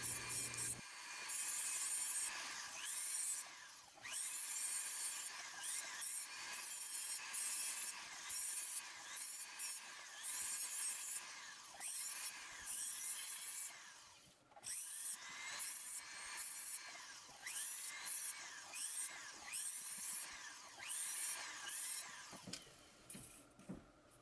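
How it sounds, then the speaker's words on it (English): A snap-on sanding disc spins in a flex shaft against a silver ring, giving a continuous high rasping whir with short pauses and bursts as the tool touches and lifts from the metal. "you can use these snap-on sanding discs in your flex shaft and get the exact same results"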